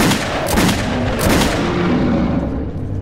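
A shotgun fires at monsters in the video game Metro 2033 Redux, two heavy booming blasts about a second apart, loud and close, followed by a roaring decay.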